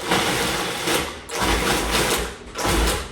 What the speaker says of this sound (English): we are gonna pulse it for just a minute, and it's gonna get a little bit loud.